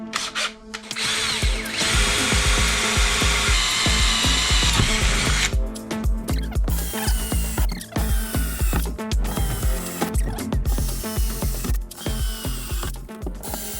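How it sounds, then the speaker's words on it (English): A power drill drives screws into a steel panel inside a Toyota Coaster bus, with a long continuous whir at first, then a series of short bursts and pauses, loud and close. "But first I'm going to get this panel screwed in."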